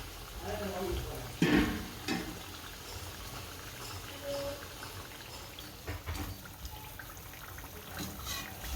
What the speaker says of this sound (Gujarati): એક બાજુ તળાઈ ગઈ હોય ને એને આ તળી લઈશું બધી આ રીતની